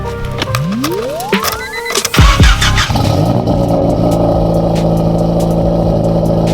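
A car cold-starts inside a garage: a rising starter whine, then the engine catches with a loud burst and settles into a steady, rough, high idle that fills the enclosed space.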